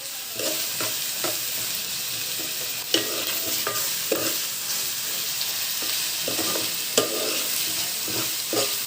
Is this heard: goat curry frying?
yes